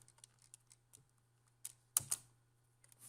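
Quiet, scattered keystrokes on a computer keyboard while JavaScript code is typed, irregular clicks with a couple of louder taps near the end over a low steady hum.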